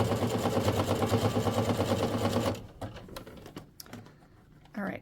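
A sewing machine stitches ric rac onto quilt binding with a rapid, steady mechanical whir for about two and a half seconds, then stops, leaving quiet handling noises and a brief voice.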